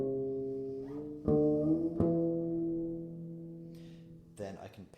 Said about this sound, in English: Another part of artificial harmonics is to do something which is called pinched harmonics